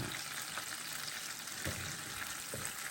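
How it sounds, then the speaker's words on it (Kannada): Food pieces dropped one at a time into hot oil to fry crisp, giving a dense, steady sizzle and crackle with a few louder pops, close up and without speech. "ಒಂದೊಂದು ಹಾಕ್ಬೇಕು ಸ್ವಲ್ಪ ಕ್ರಿಸ್ಪಿ ಫ್ರೈ ಆಗಬೇಕು"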